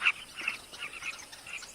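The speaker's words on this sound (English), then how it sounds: "Carmine bee-eaters, named for their favorite prey, gather on nearby perches." Carmine bee-eaters gathered on perches near sausage tree flowers in the African bush give a scatter of faint, high chirps and trills over a quiet background, several short calls overlapping at moderate distance.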